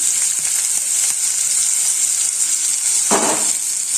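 Four medium-sized chopped onions fry in hot oil, giving a steady, close hiss of sizzling with a few small clinks and a brief burst of louder crackle partway through.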